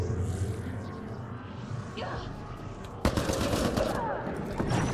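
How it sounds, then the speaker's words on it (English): Sustained minigun fire in the sci-fi video game Mass Effect Andromeda, a dense rattling burst that kicks in loudly partway through over a background of game noise and rumble. "You need some explosions and some minigun to your face."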